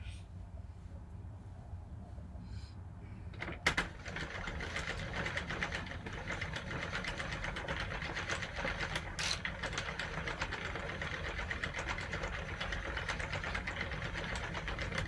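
A 48-needle Sentro circular knitting machine being cranked for rows, a continuous rattling plastic whir with a steady rhythmic clatter that runs without pause after a brief click, no voices.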